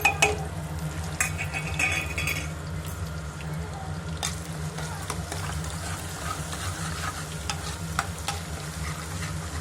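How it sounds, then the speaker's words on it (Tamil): Cumin, cloves, star anise, garlic and fresh curry leaves hit hot oil and sizzle steadily, with stirring scrapes and clinks of a utensil against the pan throughout, close and continuous. "இப்போ நம்ம இந்த ஜீரகம், கிராம்பு, அன்னாசிப்பூ, பூண்டு, பச்சை கருவேப்பிலை இதெல்லாம் போடுறோம்."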